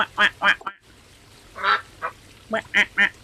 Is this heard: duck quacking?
yes